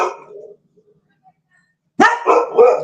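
Dogs bark in short, loud bursts. One bark comes first, then after a quiet gap several more barks follow close together, with a little whimpering and no speech.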